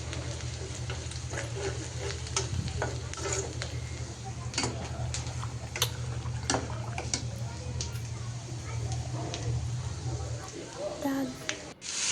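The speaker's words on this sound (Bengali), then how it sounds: "ডালটা এখন বাগার দিয়ে দিচ্ছি।" Cooked lentils get a tempering of hot oil, producing a continuous close sizzle and crackle with scattered sharp pops, over a steady low hum throughout.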